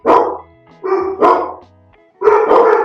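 A dog barks in three loud, close bursts, each a cluster of sharp woofs separated by brief pauses, with no talking over it.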